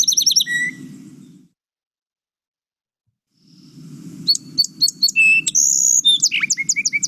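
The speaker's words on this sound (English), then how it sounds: "this guy or girl is the song sparrow." A song sparrow sings two bursts of bright, varied trills and chirps separated by a silent gap. A low rumbling hum sits under each burst.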